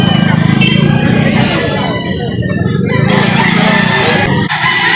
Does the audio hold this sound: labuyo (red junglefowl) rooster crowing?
yes